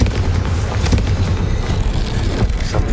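A Confringo fire spell explodes in the video game Hogwarts Legacy: a sustained, loud rumbling blast with a dense low roar and crackling debris that lasts about three seconds, with no voices.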